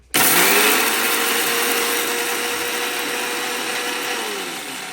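A blender grinds rice into fine powder for rice laddu, a loud steady whirring roar that starts abruptly and runs continuously, motor pitch holding level before easing slightly near the end.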